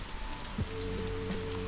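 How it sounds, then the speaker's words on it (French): Steady, soft hiss of rain falling on a surface outdoors, fairly faint and continuous, with a faint tonal hum in the background. "Il pleut."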